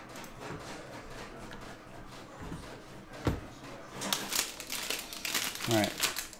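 A Panini Chronicles football card hanger pack from 2021 is torn open up close, with soft crinkling of foil wrapper building into louder bursts of tearing and crackling plastic toward the end.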